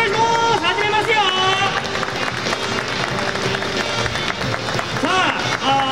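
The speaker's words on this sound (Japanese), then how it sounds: "拍手お願いします" Audience applause at a talk show held at the 2022 Okinawa Toyota Full Lineup Festival, steady clapping and crowd noise that runs loud throughout, mixed with lively music and voices.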